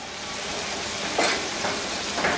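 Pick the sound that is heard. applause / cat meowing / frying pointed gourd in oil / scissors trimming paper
frying pointed gourd in oil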